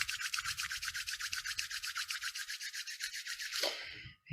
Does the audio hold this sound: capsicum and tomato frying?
no